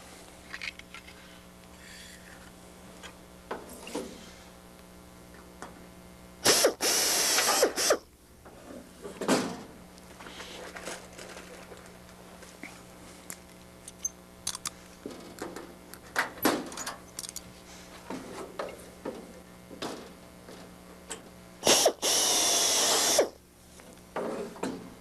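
A power drill bores through the aluminum fuselage skin of a Van's RV-6 kit aircraft in two loud, short bursts, with quieter handling clanks and rivet-tool noises in between and a steady hum underneath.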